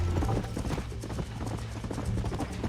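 A horse's hooves clip-clop at a steady trotting rhythm in the Western video game Red Dead Redemption, close and loud, with a low rumble beneath and no voices in the moment.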